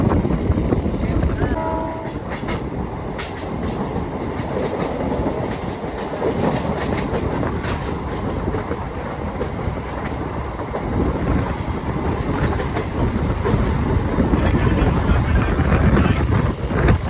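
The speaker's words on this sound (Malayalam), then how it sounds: "നമ്മുടെ ട്രെയിൻ പതുക്കെ പോകുള്ളൂ." A passenger train rolls slowly toward Walayar station on the Palakkad to Erode line through the Walayar ghats, with a loud, steady rumble, rhythmic wheel clatter and wind buffeting the microphone, heard from on board.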